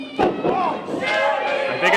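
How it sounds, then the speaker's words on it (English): Spectators at a Metro Pro Wrestling show chant and cheer in rising, sustained vocal waves, punctuated by a few dull thuds from the ring. "Jeremy Wyatt, he's getting some chants, but they're chanting ACH as well"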